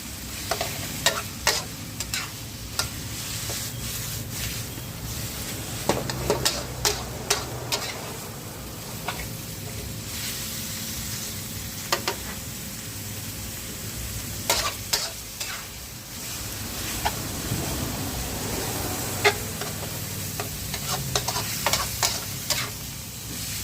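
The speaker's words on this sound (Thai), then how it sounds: "ใส่หมูสับลงไปผัดเลยนะครับลงไปผัดกับพริกแกงเลยครับ" Minced pork is stir-fried with curry paste in a pan. A loud, continuous sizzle runs under repeated sharp scrapes and clacks of a spatula against the pan, with no talking.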